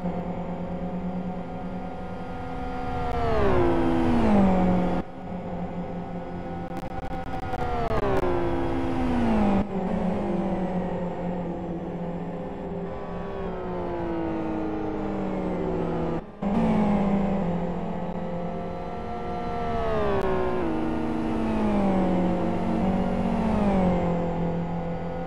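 GT2 race car at a 24-hour endurance race passing close by several times, each pass a loud engine whine that drops in pitch as it goes by.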